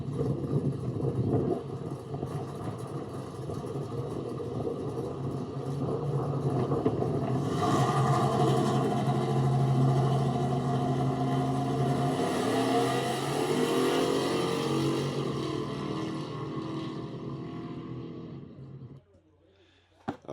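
A powerful turbocharged Coyote V8 Fox-body Mustang drag car roars steadily and loud, launching at 3,400 RPM on 13 pounds of boost, rising in intensity midway as it accelerates, then cuts off abruptly near the end.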